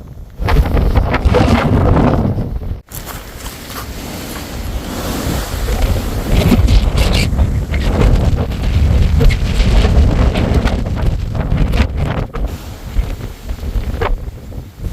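Strong wind on the Vaasimalai hilltop among wind turbines buffets the microphone in loud, roaring gusts, with one brief drop near the start before the blasting resumes and rumbles on unbroken.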